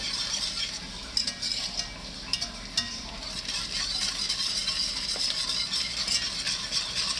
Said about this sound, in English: I'm just gonna keep giving that a good stir